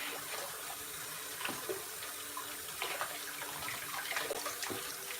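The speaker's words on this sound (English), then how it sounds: "And then I'm gonna rinse it out." A vegetable being rinsed under running kitchen tap water, a steady close hiss of flowing water broken by soft splashes as it is turned under the stream, no voices.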